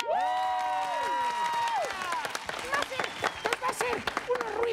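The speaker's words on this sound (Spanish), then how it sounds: "¡Fuerte el aplauso!" On a Spanish-language TV show, a long sustained tonal cry or musical note opens, then the studio audience breaks into clapping and lively cheering with scattered shouts.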